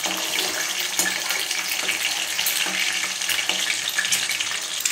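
Eggs sizzle in hot oil while being stirred for instant egg noodles, a loud, continuous hissing fry with occasional scraping knocks from the spoon, close up.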